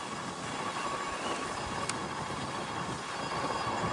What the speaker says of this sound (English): And the wind is blowing hard.